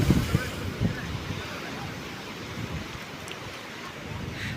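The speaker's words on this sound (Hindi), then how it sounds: "काफ़ी मौज में है आज समंदर" Rough sea waves roll and crash at Gadani Beach, a broad continuous roar of surf mixed with gusting wind buffeting the microphone, with a few heavier wave surges early on.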